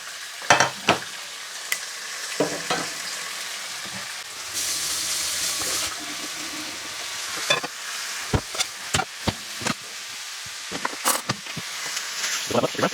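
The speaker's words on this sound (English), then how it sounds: "We are not trying to cook these steaks. We are just trying to sear both sides." Steaks sear in a hot pan with a steady frying sizzle, broken by sharp clanks and scrapes of utensils being handled as the meat is worked.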